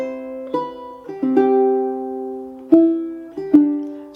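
Fingerstyle ukulele plays a chord melody, chords and a melody line sounding together in a slow waltz, each plucked chord ringing out and decaying before the next, close and clean with no voices.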